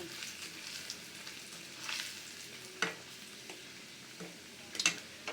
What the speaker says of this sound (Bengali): এবার কিছু শুকনো মরিচ কুচি দিয়ে দেব। দিয়ে মরিচগুলো একটু ভালোভাবে ভাজি নেব।